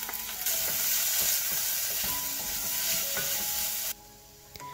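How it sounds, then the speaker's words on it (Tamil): Onions sizzle and crackle steadily while being stir-fried over a high flame for a Japanese chicken katsu curry, with a loud continuous hiss and occasional spatula scrapes against the pan; the sizzle drops off sharply near the end. "அடுத்து அதில் வெங்காயம் ஆட் பண்ணி ஒரு 2 மினிட்ஸ் நல்லா ஹை ஃப்ளேமில் வதக்குங்க."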